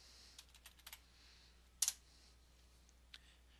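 A computer keyboard gives a few quiet, scattered keystrokes, then a sharper burst of clicks midway and one last soft tap.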